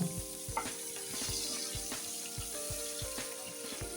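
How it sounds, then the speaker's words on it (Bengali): Onion with dried red chilli and bay leaf frying in a little oil for koi fish dal, a steady near sizzle with faint scraping stirs and a few soft clinks. "পেঁয়াজটা একটু ভাজা হোক"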